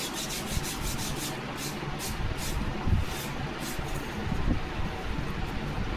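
Steady, continuous rasping of sandpaper on the balsa wood trailing edge of a static model aircraft, with rhythmic back-and-forth strokes close up and no talking.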